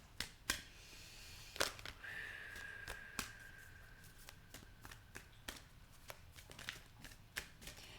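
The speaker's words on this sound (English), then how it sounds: "let me just shuffle and get the other cards" Tarot cards being shuffled and riffled in repeated crisp bursts, with sharp snaps between quieter shuffling, close up and with no talking.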